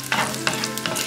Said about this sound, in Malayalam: ഇപ്പൊ ഒഴിച്ചു കൊടുത്ത നെയ്യൊക്കെ ചൂടായിട്ടുണ്ട്. ഇതിലേക്ക് കുറച്ച് അണ്ടിപ്പരിപ്പ് ഇട്ട് കൊടുക്കാം, കുറച്ച് മുന്തിരി ഇട്ട് കൊടുക്കാം.